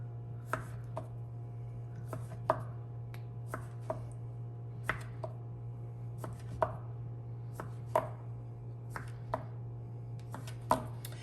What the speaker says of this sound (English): you're just going to cut about 1-inch pieces